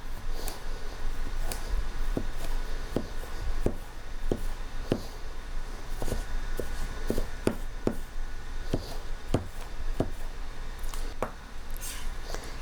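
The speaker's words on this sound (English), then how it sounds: "I'm just going to cut them into little smaller pieces with this French chef knife." A French chef knife chops sliced apples into smaller pieces on a cutting board, with sharp irregular taps close by, alone without talk.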